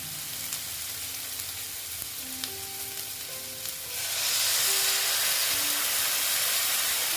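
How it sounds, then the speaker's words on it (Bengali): Water poured into a pan of well-fried spice masala for an egg curry with boras, setting off a sudden loud, broad hiss and steamy sizzle that swells midway and stays strong to the end, with no voices. "এখন আমি এখানে অল্প জল অ্যাড করে দেবো"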